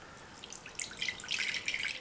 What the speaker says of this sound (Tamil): இதில் உள்ள தண்ணியை வடிச்சிட்டு